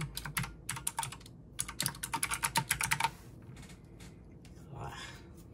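Fast typing on a Cooler Master CK351 water- and dust-resistant keyboard clatters in quick bursts for about three seconds, then stops, leaving quiet room sound with a faint murmur.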